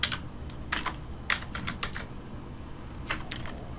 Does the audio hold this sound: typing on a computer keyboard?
yes